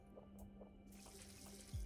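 Water pours from a watering can onto berry crops in the farming game Pixels, a soft continuous splashing stream that starts partway through and runs at low level to the end.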